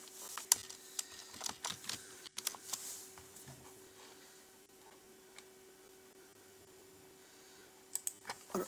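Quiet clicking of computer keyboard keys during a Hindi typing speed test, with scattered bursts of keystrokes early and late separated by a near-silent stretch, faint and close with a low background hum.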